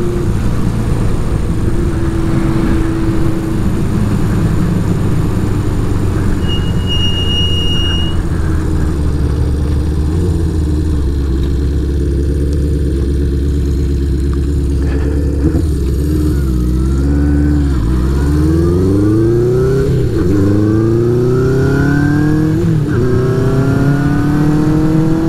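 A 1975 Honda CB550 motorcycle runs loud and close throughout, its engine droning steadily, then rising and falling through repeated revs and gear shifts in the second half.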